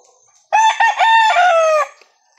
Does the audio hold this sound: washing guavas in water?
no